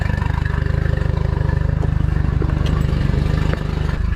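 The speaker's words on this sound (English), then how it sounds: "I hear the engine going." A fishing boat's engine idles at low revs to trickle charge the battery, a steady, even low throb with a regular pulse, close and continuous, with a few faint knocks and clinks on top.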